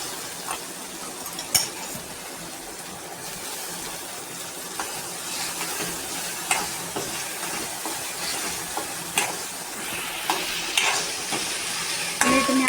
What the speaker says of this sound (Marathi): मिरची तळली की लगेच टमाटे टाकून द्यायचे.